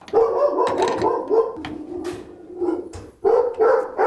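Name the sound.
dog barking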